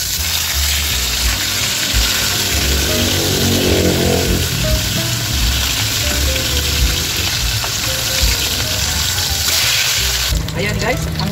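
Tilapia fries in a pan with a steady, loud sizzle and crackle that runs throughout, broken by a few scraping stirs and clatter near the end.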